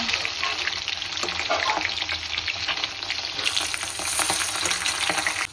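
Fish frying in a pan of oil gives a steady, dense sizzle that runs the whole time, close and fairly loud, with faint clatter underneath and no talking.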